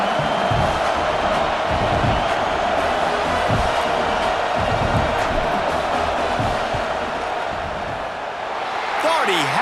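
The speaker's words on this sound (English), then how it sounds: "This crowd trying to do its part to get inside the kicker's head." A stadium crowd roars in the EA Sports College Football 26 video game during a field goal attempt, a loud, steady wall of cheering and noise, with a commentator talking over it.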